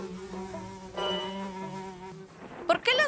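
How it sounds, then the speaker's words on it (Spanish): Pesky flies buzz near a zebra in a steady, close, droning hum with tonal layers that holds for about two and a half seconds before other brief sharp sounds cut in. "Oh, estas molestas moscas se atraviesan en todo."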